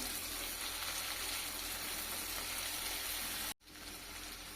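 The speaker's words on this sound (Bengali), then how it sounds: "আদা রসুনের গন্ধটা চলে যাওয়া পর্যন্ত কিছুক্ষণ ভেজে নিচ্ছি।" Ginger-garlic paste frying with tomato in a pan for an egg dish makes a steady, close sizzle that runs unbroken, cuts out briefly near the end and then picks up again. No one talks.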